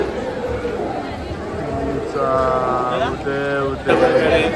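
Dense, noisy crowd chatter at Ekveera temple, a steady babble of many voices close around, with scattered louder calls rising above the din near the end.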